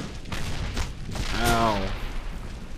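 Gunfire in the World War II shooter game Brothers In Arms: Hell's Highway, a dense burst of overlapping rifle and machine-gun shots with a rumbling low-end, loud and continuous over about three seconds.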